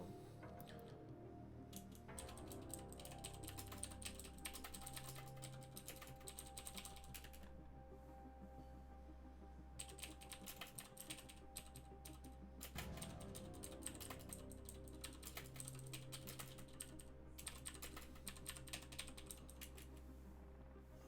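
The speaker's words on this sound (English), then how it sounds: "See my keyboard, apologize for that. I have loud keys and very sensitive microphone." Continuous clatter of a loud computer keyboard being typed on for the whole stretch, dense rapid keystrokes close to the microphone over a steady low hum.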